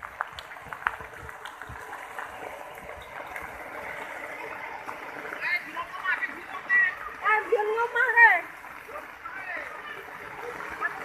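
Floodwater flowing and splashing through flooded villages in Lunang district after heavy rain, a steady broadband rush with louder splashing bursts toward the end, people talking faintly underneath.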